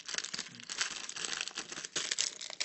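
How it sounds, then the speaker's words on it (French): Plastic bag holding Lego pieces for a Ninjago Samurai X set being torn open, a steady close crinkling and crumpling of plastic with sharper tearing bursts throughout, no voices. "Donc on va ouvrir le sachet"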